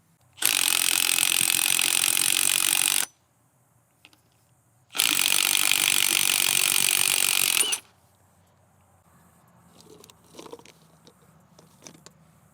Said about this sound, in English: I'm gonna put my foot on top of the spring, impact that nut off, and shoot that thing out